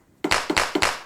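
Three punchy clap samples from a Pyle TED01 electronic drum pad fire in steady rhythm, loud and close, each a crisp burst with a brief tail.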